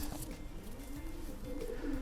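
Pigeons coo softly in a breeding loft, a low, continuous burbling murmur over a steady background hum, with no voices heard.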